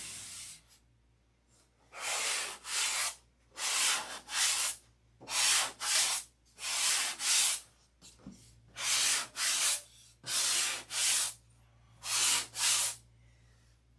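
Wood trim being sanded by hand, heard as a series of about nine steady rasping strokes in rhythmic bursts with short pauses between them, close and fairly loud over a faint low hum, with no talking.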